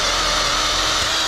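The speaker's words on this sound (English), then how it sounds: "Let's drill the other hole" A power drill bores a hole into a combo kayak and flatboat trailer while mounting a runner bracket, a loud steady broadband whine, close and continuous with no speech.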